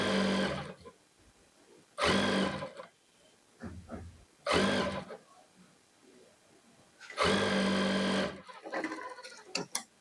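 A sewing machine runs over the edge seam of a cordset kurti in four separate bursts, each about a second long with short pauses between, close and fairly loud, with faint fabric handling in the gaps.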